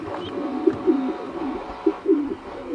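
Domestic pigeons in a breeding loft with their young coo nearby in soft, repeated low phrases, a few rounded calls rising and falling with short pauses between them.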